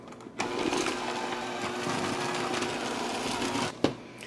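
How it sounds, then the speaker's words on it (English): An electric hand mixer churns gingerbread cookie dough, its motor humming steadily and loudly with a strained, buzzing tone, starting abruptly and ending with a brief knock as it is switched off. "So you just want to kind of take it easy if you're using a hand mixer like this."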